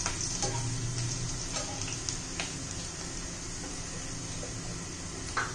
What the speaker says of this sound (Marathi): हे बघा जिरं तडतडलंय